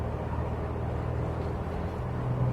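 Steady low rumble of a high-mileage Jeep cabin on the move, a constant drone of road and engine noise with no voices.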